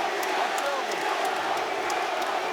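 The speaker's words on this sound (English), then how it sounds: "And you can hear the crowd, the support here." A big boxing crowd at Madison Square Garden roars and cheers steadily through a fight, with shouts and whoops rising out of the dense, loud wall of noise.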